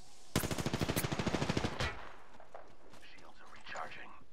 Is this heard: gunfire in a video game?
yes